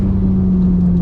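A Ferrari 430 Scuderia's engine and exhaust hold a loud, steady, close drone at constant pitch for about a second, no voices present.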